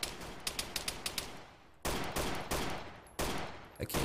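Gunfire in the video game Arma 3: a quick rhythmic string of sharp shots, then several louder, heavier bursts that each ring out and decay, with nobody talking over them.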